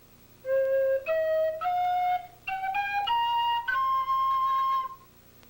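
A flute-style wind instrument plays a blues scale: six clear, pure, breathy notes stepping upward one after another, close and alone with no talking.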